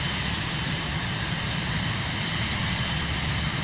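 Airplane engine drone from Microsoft Flight Simulator 2024, a flight from Atlanta to Orlando, Florida, as a steady, loud, unbroken rumbling roar with no voices.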